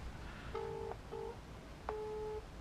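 A phone call placed to a Streetwize GPS tracker fitted on a Triumph motorcycle, heard as a few quiet two-tone ringback beeps, a short pause between the first pair and a longer final tone, over faint background hiss.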